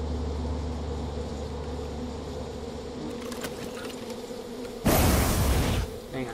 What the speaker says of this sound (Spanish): Cuidado con las abejas